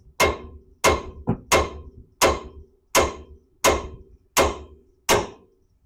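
Eight sharp metallic hammer strikes ring out close and loud at a steady, roughly even pace, each with a short ringing decay, as a hammer taps the lower ball joint section on a 2005 Ford F150 suspension. One lighter tap falls between two strikes.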